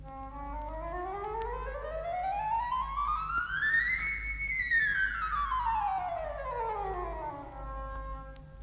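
A single breathy flute-like pipe tone slides smoothly upward in pitch, then glides back down, sustained and unbroken over a low background hum.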